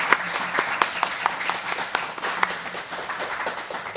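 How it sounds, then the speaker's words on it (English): Audience applause for an expert panel at a conference: many hands clapping in a steady, dense patter with a few sharper individual claps standing out, moderately distant and sustained throughout. "So I want to just have us all give this wonderful panel a round of applause,"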